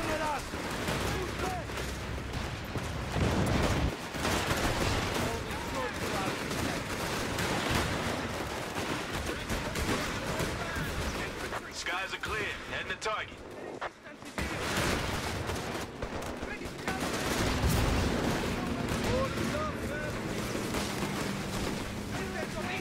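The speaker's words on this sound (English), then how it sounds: "The cowards are shooting at us!" Gunfire in the World War II strategy game Company of Heroes 3: dense, continuous rattling small-arms fire and distant blasts under a steady battle din, with brief quieter moments and occasional voices.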